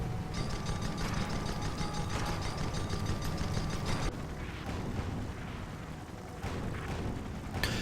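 Rapid airship gunfire with mechanical clatter during a Guns of Icarus-style community skirmish, a dense steady rattle for the first half that drops off abruptly, then quieter bursts and creaks, with no talk.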